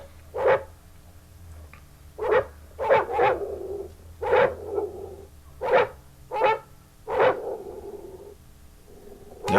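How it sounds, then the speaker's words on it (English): A leash-reactive dog barks at a seated person in single, evenly spaced woofs, about eight in all, fairly close, over a quiet low hum. "Now he's just barking at a person sitting there."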